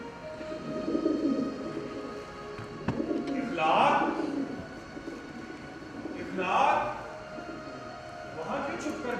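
Soft, low pigeon cooing repeats in slow swells, a few seconds apart, beneath faint background noise.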